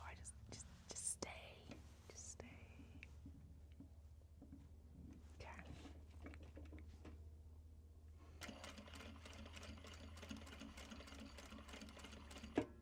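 A sewing machine stitches down fabric pieces in quiet, rapid bursts of needle clatter, stopping and restarting, with soft handling noises and faint whispered talk between runs.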